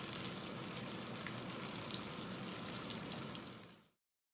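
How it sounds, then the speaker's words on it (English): Steady, dense sizzling of chicken frying in hot oil, fairly quiet and continuous, fading out abruptly at the end. "They're going to stay frying for about 6 minutes."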